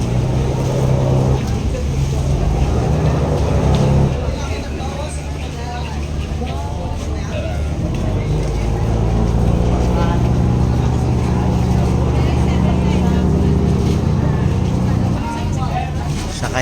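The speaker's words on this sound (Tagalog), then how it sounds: "Sakay ng bangka papuntang Guimaras, Iloilo." A motor boat runs on the crossing to Guimaras, Iloilo, with a steady loud engine drone and rumble throughout. People talk over the noise.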